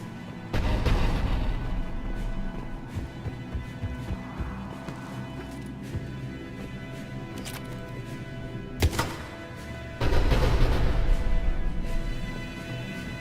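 Cannon fire and heavy booms in the Mass Effect Legendary Edition video game, with a sharp blast near the middle and a loud, sustained burst toward the end over constant rumbling combat noise.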